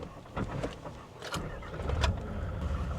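A 4x4 engine on a hill cranks and stumbles after stalling, then settles into a rough, low idle, with a few mechanical clunks and no voices.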